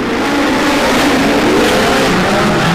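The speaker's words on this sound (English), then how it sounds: "25 laps now up on the board as Curry leads them in. Parker on his outside. We go racing." Speedcars roaring off the race start at Murray Bridge in the Blackjack Series, a loud continuous pack of engines revving and accelerating, close and dense with shifting pitch.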